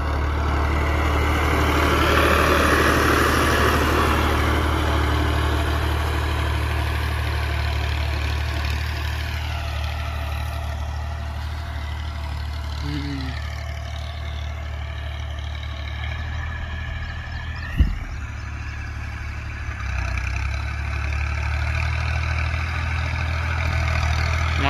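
A 2022 New Holland Ghazi 65 HP tractor's diesel engine idling with a steady low rumble that continues throughout, joined by a single sharp knock partway through and faint background noise.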